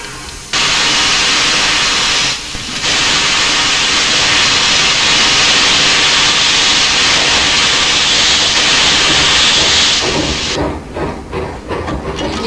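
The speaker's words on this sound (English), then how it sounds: "Here it had the cylinder cock sound" A steam locomotive in the Trainz simulator game, a Grapevine Vintage Railroad 2248, releases its cylinder cocks in a loud, continuous roaring hiss that holds steady, briefly dips once, then cuts off near the end.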